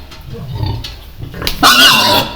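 A boar on a pig farm grunts up close and loudly, with several low rumbling grunts followed by a louder, harsher squealing snort near the end.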